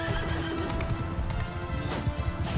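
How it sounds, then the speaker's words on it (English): An armored warhorse neighs and whinnies over rapid galloping hoofbeats in the Mount and Blade Bannerlord battle game, close and loud with busy battle noise around it and no speech. "that was like Trustin or Damien, who had the shiny, mounted, high-quality armor for his horse"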